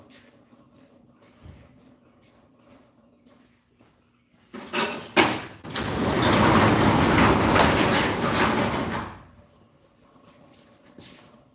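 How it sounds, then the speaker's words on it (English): A garage door rolls open with a clattering rattle, a loud sustained rumbling slide lasting several seconds after a few sharp clunks, then fading back to a quiet shop hum. "Let me go open that door."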